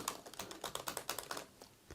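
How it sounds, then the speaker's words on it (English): Typing on a 2018 MacBook Air's second-generation butterfly keyboard: quick, crisp, shallow key clicks in a steady irregular patter, close and fairly quiet, with no voices. "this is a butterfly 2nd generation keyboard"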